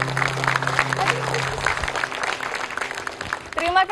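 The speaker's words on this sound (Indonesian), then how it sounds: "Boleh kita berikan tepuk tangan sekali lagi" An audience applauds on a TVRI Jogja studio show, a continuous patter of clapping that swells and fades, with a voice rising over it near the end.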